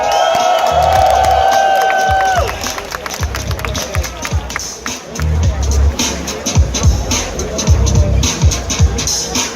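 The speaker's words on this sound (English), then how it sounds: "a big round of applause for second place, Allie." At the Importfest 2018 car show, a crowd breaks into applause and cheering for the second-place finisher. Clapping and whoops swell after an announcer's voice, then keep going with loud, scattered claps.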